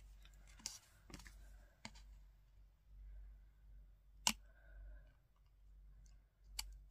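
Scissors cut along the fold of a paper pop-up card, a few faint, crisp snips spaced apart in a quiet room.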